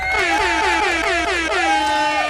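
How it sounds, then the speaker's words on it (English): An air horn sound effect blasts on a livestream in repeated loud, wavering honks that run continuously for about two seconds, with no talk over it. "you know what you about to get, an air horn"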